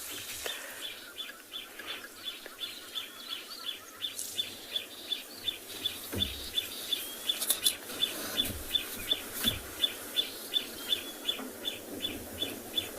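A morning bird chorus at a South African safari site, including flycatcher and crombec calls, with one bird repeating a sharp, evenly spaced call about twice a second and softer chirps around it in the open air.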